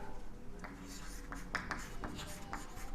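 A pen writes on paper close up in quick, faint scratchy strokes, continuing in short bursts across the moment.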